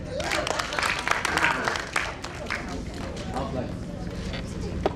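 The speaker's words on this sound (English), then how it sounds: "Please clap for her." A student audience in a university theatre claps for a student, a loose burst of hand clapping mixed with crowd noise and some voices, fading after a couple of seconds.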